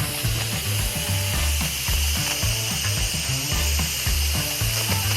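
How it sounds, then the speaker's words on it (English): An Instant Pot venting pressure through its steam valve during the release cycle, a loud continuous hiss close by with a rapid rhythmic rattle underneath and no talking. "It's still depressurizing, and it's on the venting cycle."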